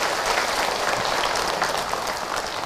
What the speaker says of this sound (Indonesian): Tepuk tangan buat teteh yang bertanya.